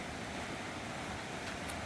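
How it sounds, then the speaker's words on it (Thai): Steady broadband rush of water flowing at Huai Mae Khamin waterfall in Kanchanaburi, a continuous even hiss with no breaks over a short stretch, heard without speech. "เสียงน้ำจะเริ่มไหลมาแล้วนะคะทุกคน"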